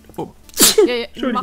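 A single sharp, close sneeze bursts out mid-conversation, followed immediately by a person speaking briefly in German.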